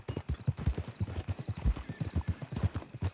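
Horse hooves clip-clop steadily at a walking pace in Red Dead Redemption 2, a close, even run of soft thuds with no other clear sound over them.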